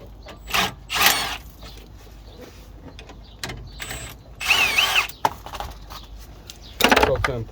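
Rear brake caliper bolts on a Mercedes Sprinter being loosened, a series of short mechanical ratcheting and clanking bursts with pauses between them, close and moderately loud, with no speech.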